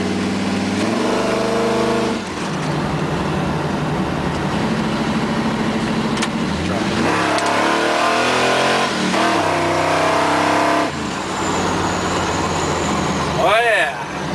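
A 1971 Ford truck engine fitted with a 2500 stall torque converter, idling and revving hard up and down in loud, close surges, with a person talking over it.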